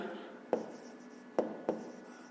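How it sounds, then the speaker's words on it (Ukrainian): Pen strokes on paper as an explanation is written by hand for a fifth-grade maths exercise, three distinct scratchy bursts spaced unevenly over a quiet background. "можемо і записати пояснення"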